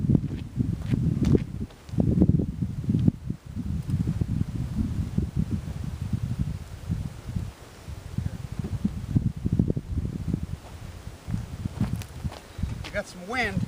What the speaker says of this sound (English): got some wind. Got a lot of wind.